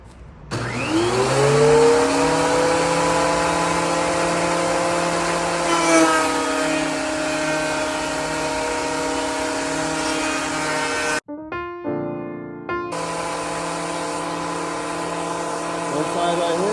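A power planer runs on a rustic pallet wood table frame with a loud, steady whine. The motor cuts out briefly, then starts again and keeps planing.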